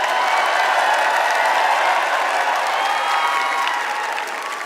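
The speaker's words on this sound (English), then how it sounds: "can we please have a round of applause for my real Miss Universe, Paula Sugar" Loud audience applause at a Miss Universe pageant preliminary, dense sustained clapping with some cheering and crowd noise mixed in, close and full, easing slightly at the end.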